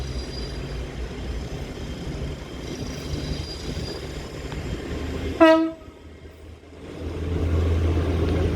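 A Great Western Railway Hitachi train hums and rumbles steadily with its engine droning, then a single loud horn blast sounds briefly before the rumble swells again as the train moves off.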